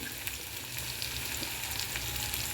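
Chopped onion sizzling in oil in a pan while making Punjabi-style dal makhani, a soft, even crackle that holds steady without pause.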